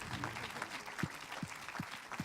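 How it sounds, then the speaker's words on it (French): An audience applauds at a film festival opening ceremony in Saint-Jean-de-Luz, a faint, distant patter of clapping under a low voice. "applaudissez-vous"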